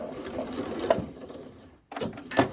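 A sewing machine stitches binding onto a table runner in quick bursts of rapid needle clatter, pausing briefly before a second run off the edge of the fabric.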